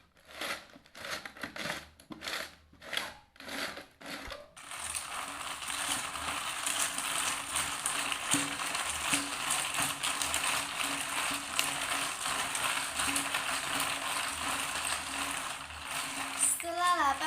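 A can being turned to churn homemade ice cream without a fridge or mixer gives a steady, dense scraping and crinkling rattle that runs continuously for most of the stretch, preceded by a few short bursts of handling noise.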